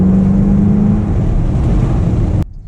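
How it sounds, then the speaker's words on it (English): Custom Jeep Grand Cherokee Limited pulling hard, its exhaust note a loud continuous droning roar with a brief rising tone early on, cutting off abruptly near the end. "we're gonna have to lower the windows down to get the exhaust note"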